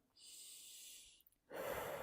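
Breathing during a chest mobility exercise: a long, airy inhale, a short pause, then a stronger, louder exhale, close and clear with no talking.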